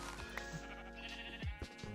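A single close sheep bleat from Minecraft rings out over a low ambient game hum, with nobody talking.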